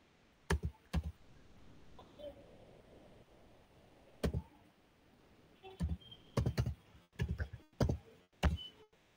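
Someone types on a computer keyboard in scattered bursts of sharp key clicks, some isolated and some in quick clusters, against a quiet room with faint background murmur.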